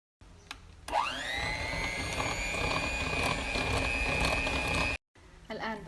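Electric blender starts with a rising whine and runs steadily for about four seconds, mixing the liquid ingredients for a layered date cake, then cuts off abruptly; a voice is heard briefly afterward.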